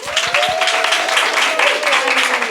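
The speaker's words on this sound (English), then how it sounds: "let's give her a round of applause" An audience at a youth leadership conversation breaks into applause, a continuous patter of many hands with a few close, sharp claps at the start and a voice speaking over it.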